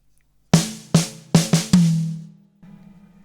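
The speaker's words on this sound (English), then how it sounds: "So we're mostly on the snare, but we've got one note on the high tom at the end." Snare-heavy drum fill of five sharp hits in uneven rhythm, the last a ringing high tom note, followed by a softer hi-hat and bass drum beat; close and clear, no talking.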